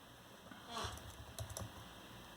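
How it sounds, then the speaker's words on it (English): Keys on a Lenovo Z570 laptop keyboard are tapped in two short, quiet bursts of a few clicks each, close by, with no voice over them. "So now just type in your password"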